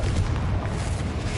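A short, heavy fiery explosion from the Confringo spell in Hogwarts Legacy, a loud close boom with a rumbling tail filling the brief moment.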